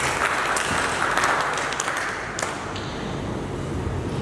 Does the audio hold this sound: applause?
yes